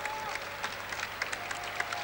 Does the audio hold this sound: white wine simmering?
no